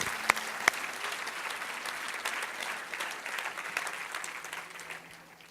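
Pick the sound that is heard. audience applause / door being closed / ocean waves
audience applause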